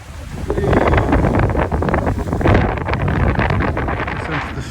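Strong easterly wind buffets the microphone aboard a Sabre 27 sailboat at sea near Dublin Island, a loud continuous roar with gusting swells and water noise underneath.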